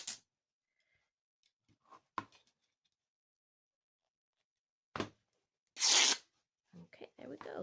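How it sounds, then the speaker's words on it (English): Fabric seam being ripped apart by hand during a sewing project, heard as a few short tearing bursts, the loudest near the end, with pauses and brief talk around them. "Rip down that seam."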